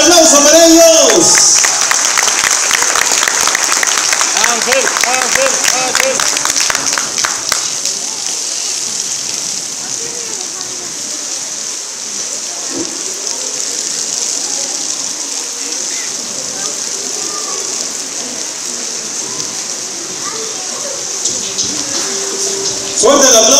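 Continuous loud clapping from families at a primary school graduation ceremony, a rain-like roar that stays steady throughout, with a voice briefly heard near the start.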